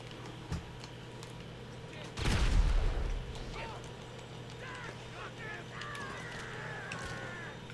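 Grand Theft Auto Online gunfire at a military base, one loud, thick burst of shots standing out over a low steady hum, with voices talking around it.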